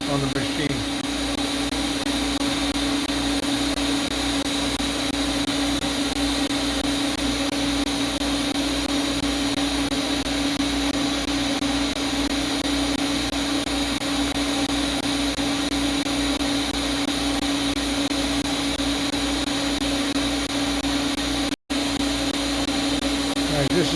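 An arc welding machine set to 32 amps runs in a steady, continuous buzz with a strong low hum and broad hiss, holding level for the whole stretch apart from one sharp click near the end.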